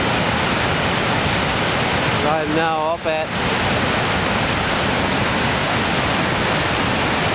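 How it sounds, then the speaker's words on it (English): Steady Brook Falls in Newfoundland pours with heavy flow, a loud, constant roar of rushing water that fills the whole clip. Someone speaks briefly over it midway. "A lot of energy going over this falls here today."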